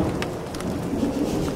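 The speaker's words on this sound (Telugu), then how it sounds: "బయట వాన పడుతుంది." Rain falls outside a home kitchen, a soft steady patter of drops heard faintly and continuously, with no talking.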